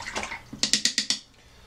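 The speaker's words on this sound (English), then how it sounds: "we are going to spatter paint all over" Paint flicked from a watery paintbrush onto artwork, a quick series of about six sharp spattering taps in an even rhythm, close and fairly loud, with no voices.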